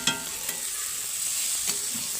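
Mixed radish, pea, pumpkin and onion sabzi cooks in a pan with a steady soft sizzle, broken by a few faint stirring clinks, close and continuous.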